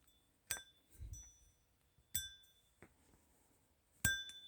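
A metal retainer is fitted onto a gear of a Hercules OOC water pump for a Cletrac E-62 tractor, producing several sharp, bright metallic clinks and taps spaced apart in a quiet room.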